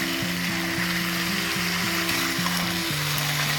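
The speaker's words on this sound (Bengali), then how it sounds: "এবার এটা ভালো করে কষিয়ে নেব।" Skin-on chicken pieces sautéing steadily in a pan for kosha, a dense, even sizzle with constant crackle throughout, close and loud, while background music plays underneath.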